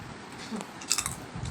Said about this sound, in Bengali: ছেলে আর আমি এখন পাপড় খাচ্ছি